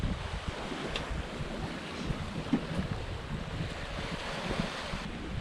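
Steady wind and water wash on a Hallberg Rassy 54 yacht sailing gently downwind in 10 to 12 knots off the Bahamas, a continuous broadband rush with small splashes and no voices.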